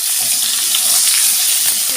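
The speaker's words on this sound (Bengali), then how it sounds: "কেটে রাখা পটল আর আলুটা দিয়ে দেবো দিয়ে ভালো করে ভাজা করে নেব" Pointed gourd and potato pieces hiss in hot oil with fried cumin, a loud, steady close-up sizzle with light stirring throughout the short stretch.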